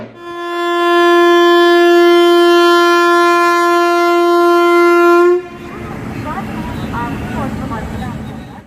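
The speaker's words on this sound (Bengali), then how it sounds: "আমাদের ট্রেন বর্ধমান স্টেশন থেকে ছেড়ে বেরিয়ে যাচ্ছে" The Amrit Bharat Express (Malda–Bengaluru) sounds a long, loud horn blast of about five seconds as it departs Bardhaman station on its inaugural run. The horn cuts off into a lower rumble with a busy wash of crowd noise.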